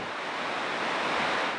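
Strong wind roars steadily across a suspension bridge hanging high above a gorge, a broad, close rushing noise buffeting the microphone with no voices.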